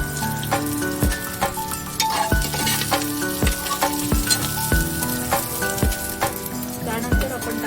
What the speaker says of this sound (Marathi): मस्त असं मोहरी आणि कढीपत्ता तडतडलेला आहे